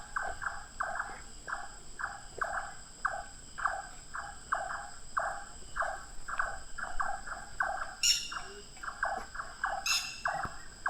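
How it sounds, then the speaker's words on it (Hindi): Several nightjars call in a forest at night near a rest house in Jim Corbett's Halduparao area, a fast repeated churring and chucking from more than one direction, steady and moderately near, with a few higher chirps cutting in. "नाइट जार की आवाज़ें सुनी, इधर से आ रही है, दो उधर से आ रही हैं।"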